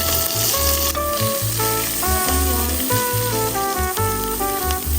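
Beef short ribs sear and onions go into a hot pan, making a steady, close hiss of frying that runs under loud background music.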